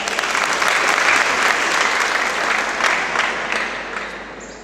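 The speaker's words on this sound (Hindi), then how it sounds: "एक बार जोर से तालियां" Dense, loud applause from an audience at a college gathering, sustained steadily for several seconds before easing off slightly at the end.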